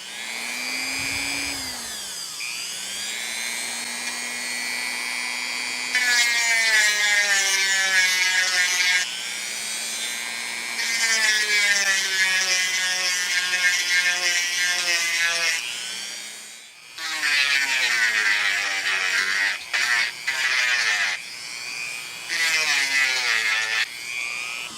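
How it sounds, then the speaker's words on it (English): A power tool grinding a PVC lightsaber hilt into a rounded shape, a loud, close, steady high-pitched whine that rises and dips as the tool bites into the plastic, with brief pauses and restarts near the end. "I just got to do some grinding on this one to give it that rounded shape"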